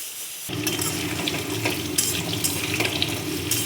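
Green banana kofta fritters, made from a mashed boiled green banana paste with salt and turmeric, drop into hot oil and fry with a sudden loud sizzle that bubbles and crackles steadily close by.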